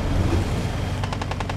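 Automatic gunfire in a squad shooter video game comes as a fast, even burst of close, loud shots over a dense low rumble, with no one speaking.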